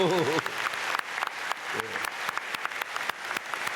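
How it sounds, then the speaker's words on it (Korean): Church congregation applauding Sunday school students during a dawn prayer service, a steady wash of clapping with sharp individual claps, following a brief spoken word at the start. "우리 주일학교 학생들에게 박수"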